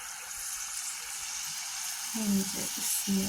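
Mango puā pithā batter dropped into hot oil, a steady sizzle and bubbling of frying fritters throughout, with a few louder crackles and spatters near the end; no voices.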